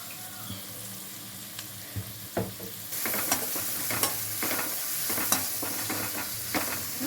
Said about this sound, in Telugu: ఆనియన్స్ కూడా వేసుకొని ఫ్రై చేసుకోవాలి ఆయిల్లో.